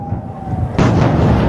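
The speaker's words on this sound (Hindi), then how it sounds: "धमाकों की आवाजें सुनते चलिए" A sudden, loud, sustained roar of a missile strike explosion bursts in after a thin steady siren-like tone, filling the scene with dense rumbling noise during an Iran–US conflict.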